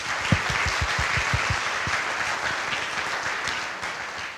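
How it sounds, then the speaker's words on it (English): Audience applause at an innovation hub event, a dense wash of many hands clapping steadily for a few seconds with a few louder individual claps early on, no talking. "I'd like to give them all a round of applause because they are awesome"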